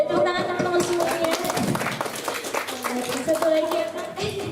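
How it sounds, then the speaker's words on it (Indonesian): Audience clapping at the Etnoparenting Exhibition 2022, a steady, moderately loud round of hand claps mixed with overlapping voices and chatter throughout. "Boleh tepuk tangan teman-teman semuanya."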